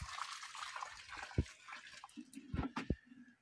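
Water poured at the base of a fruit tree outdoors, a soft splashing trickle with a few louder splats near the end, close but fairly faint, with no talk.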